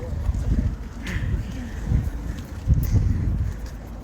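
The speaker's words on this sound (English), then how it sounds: "It's super, super windy, so I tried to bring candles" Heavy wind buffets the microphone in rumbling gusts, loud and uneven, with faint rustling outdoors.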